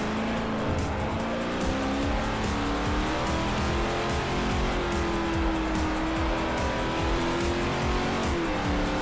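Race car engine in the Forza Motorsport 4 video game accelerating smoothly on track, a loud steady engine note rising in pitch, with faint tire noise, continuous throughout and no talking.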